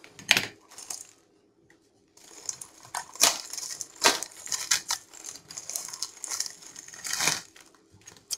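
A small parcel from China containing coins is unpacked, its packaging crinkling and rustling in short bursts, with sharp clicks and brief pauses between handling sounds, close to the listener.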